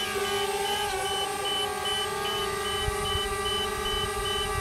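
A DJI Spark drone beeps in a steady series of short, repeated tones over a constant electronic hum, close and fairly loud, with no voices.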